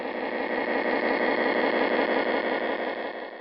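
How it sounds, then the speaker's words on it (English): A modified Aristocraft mainline diesel model locomotive's onboard sound system plays a steady, loud droning engine rumble with a slight whine, continuous and unbroken. "a modified Aristocraft mainline diesel Again, complicated sound system."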